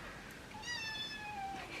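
Pet kittens give a single drawn-out, high-pitched meow, fairly faint over steady room hiss.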